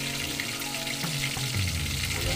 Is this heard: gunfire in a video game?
no